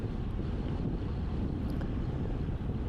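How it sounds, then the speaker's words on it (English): Headwind roars across the microphone of a cyclist in a club crit race, a dense, loud, low buffeting rush that holds steady throughout with no voices. "And we're turning into the headwind."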